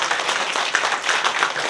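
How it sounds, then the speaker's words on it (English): Audience applause at a talk on Cincinnati ballpark beer signage, a short burst of dense steady clapping filling the room with no voices over it. "round of applause for Warren"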